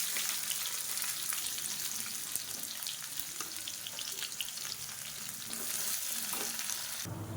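Steady, dense sizzling of a large, lengthwise-sliced onion frying in a hot pan, with occasional stirring scrapes; close and continuous, no voices.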